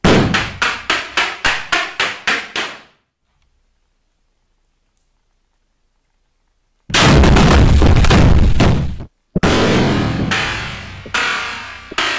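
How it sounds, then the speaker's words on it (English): An explosive blasting round goes off at an underground gold mine face, with a rapid series of sharp detonations, then silence, followed by long, loud roaring rumbles of blast and rushing debris. "So we're getting ready to set this round off here in a few minutes."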